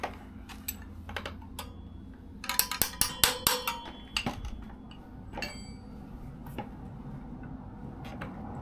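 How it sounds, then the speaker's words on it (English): A wrench tapped to seat a spoke weight on a 16-inch motorcycle wheel during a 2002 Sportster chopper rebuild, heard as sharp metallic ticks and clinks, first scattered, then a quick close cluster, then a few more. "I'm just tapping on the wrench, not the spoke, not the weight"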